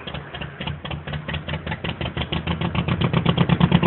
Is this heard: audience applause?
no